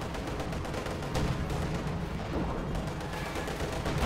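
Gunfire from Company of Heroes 2 in a 1v1 match with Panther and T-34 tanks, a steady dense crackle of rapid shots and bursts over battle noise, fairly quiet and without voices.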